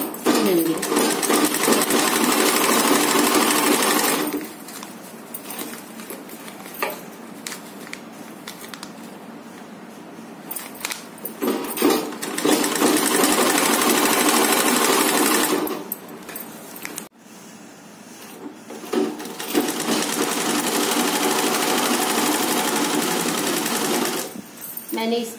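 A sewing machine stitches pieces of a green bag together in loud, rapid bursts of several seconds each, separated by quieter pauses with handling noise and a person speaking.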